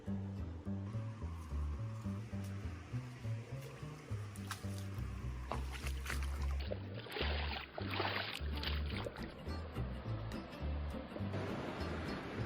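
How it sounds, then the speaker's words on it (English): A waterfall on a Wisconsin hike gives a constant rushing, splashing roar of falling water, steady and fairly close, with some low wind buffeting and no talking. "I just love waterfalls. They're so magical."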